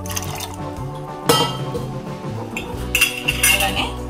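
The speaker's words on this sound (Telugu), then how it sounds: "ఇప్పుడు దీంట్లో వాటర్ వేసుకోవచ్చండి" Water splashes and pours into a cooking pot for lentils with ponnaganti leaves, with metal clinks of the vessel and utensils, close and clear, and no talking over it.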